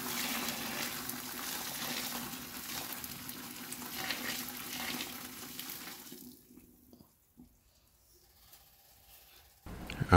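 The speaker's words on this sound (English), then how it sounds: "Get ready to pour the water into your bucket." Hot water pours and splashes steadily into a bucket, a rushing hiss that cuts off near the end, followed by near silence and a final clunk.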